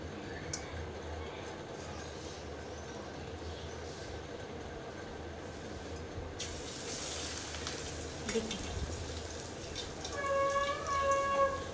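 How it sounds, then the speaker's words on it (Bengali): Chicken chops frying in hot oil on a lowered gas flame give a steady, dense sizzle that runs throughout, growing a little louder near the end. "কিছু কিছু যেগুলো ভাজা হয়ে গেছে সেগুলো উল্টে দিচ্ছি"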